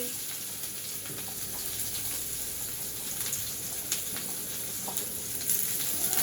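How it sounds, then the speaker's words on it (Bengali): Onion, garlic, dried chilli and panch phoron frying in hot oil in a home kitchen, giving a steady, soft crackling sizzle throughout with small pops, close by and fairly quiet. "তারপরে এখন এটাকে সুন্দর করে ভাইজে নেব"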